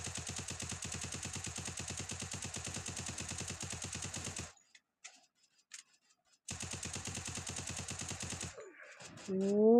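Rapid automatic gunfire from the video game Free Fire rattles in two long, evenly spaced bursts separated by a short silence, followed by a brief electronic tone at the end.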